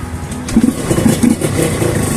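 Yamaha TZR150 two-stroke motorcycle from the 1990s in original factory condition, its engine idling and blipping close by in a steady uneven putter, heard alone without talk.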